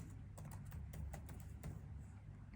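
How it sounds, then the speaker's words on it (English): Fingers type on a computer keyboard while entering HTML table code, a quick, irregular run of light key clicks that is faint and close, with no voices over it. "I think I'll just type this directly"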